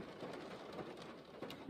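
Steady, soft rain patters on a nearby surface during car camping, a constant hiss with scattered drop taps and no voices.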